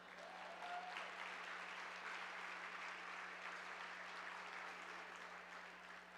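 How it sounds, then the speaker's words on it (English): Audience applause at an awards luncheon honoring Black women, a steady, dense wash of clapping from a large room, faint and distant, continuing evenly for several seconds with a low steady hum beneath. "If you don't clap for them, it's actually offensive, so come on, come on."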